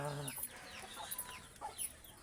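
A chicken clucks in a run of short, faint calls close by in quiet surroundings, no talking.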